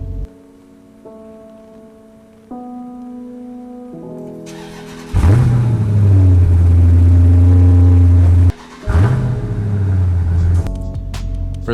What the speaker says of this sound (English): wanted to talk about something that really only car enthusiasts can appreciate, and that is the cold start.